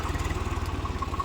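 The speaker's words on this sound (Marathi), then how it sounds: "आता हे नांगरणी करणार आहे ट्रॅक्टर" A diesel tractor engine chugs at low revs while working a field for ploughing, a rapid, even low thump that runs steadily for the whole moment with no voices.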